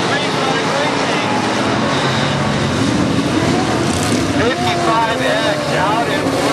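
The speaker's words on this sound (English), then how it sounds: "Modify, heat race number one underway." IMCA modified race cars in a heat race at Barona Speedway, a loud continuous roar of engines that rise and fall as the cars circle, with a public-address announcer talking over it.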